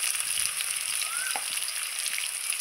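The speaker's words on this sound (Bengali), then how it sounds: "ওই তেলে আমি আলুগুলো ছেড়ে দিচ্ছি।" Potatoes sizzle steadily in hot oil in a pan, a bright continuous crackle with a soft clink near the middle, close and moderately loud.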